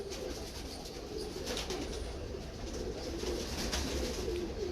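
Soft, continuous cooing from a group of Royal Teddy pigeons, low murmuring calls overlapping steadily with a faint rustle of wings in the background.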